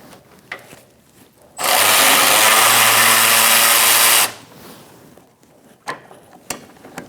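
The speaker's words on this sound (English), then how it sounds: "We're going to use a 10mm socket." Ratchet with a 10mm socket removing a bolt in the engine bay of a 2002-2006 Honda CR-V, one loud steady burst of rapid clicking lasting about three seconds, then fainter scattered taps and clicks.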